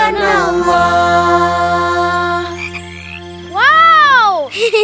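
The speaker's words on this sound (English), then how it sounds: "Oh, a frog! It's so cute!" A frog croaks loudly in rising, warbling calls, with a long sustained croak at first and a stronger swelling call near the end.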